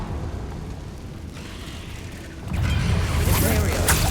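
A Confringo blasting spell goes off in Hogwarts Legacy, a sudden loud burst swelling midway and rumbling on with bright crackle until the end, after a stretch of quieter game ambience.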